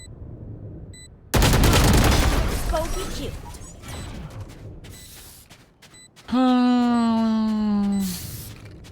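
Rapid automatic gunfire sprays in a tactical shooter game, a loud dense burst of shots followed by mechanical clanks, a tonal sweeping effect and a voice talking over the game audio.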